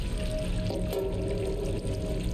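Water pouring and filling as a cat collects it in the video game Stray, a continuous splashing trickle with a faint tonal hum underneath, steady throughout.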